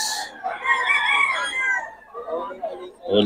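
A rooster crows at a busy poultry market in Bocaue, its drawn-out call rising loud and close through the middle, with a second bird's sharp cry near the end and market noise around it.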